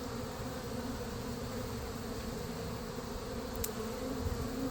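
Honeybees buzzing during a hive removal in Winter Haven, Florida: a steady, faint swarm drone of many bees hovering near their disturbed former home, with no talking.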